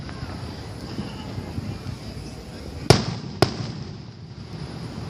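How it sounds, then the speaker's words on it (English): Two sharp firework pops about half a second apart break through a steady outdoor background noise during a July 4th display, fairly loud against the ambience. "it's like a Jack-in-the-Box firework"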